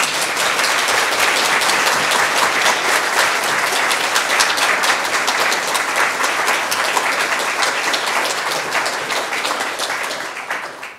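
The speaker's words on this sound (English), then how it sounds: "I would like to ask you to indulge me and ask you to applaud my family," An audience at a university inaugural history lecture applauds steadily for about ten seconds, with dense, sustained clapping that slowly thins and fades out at the end.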